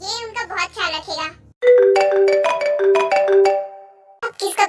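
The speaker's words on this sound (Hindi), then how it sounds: "अब किसका कॉल आ रहा है?" A phone ringtone plays a bright, melodic tone sequence for a few seconds, clear and close, with speaking voices just before and after it.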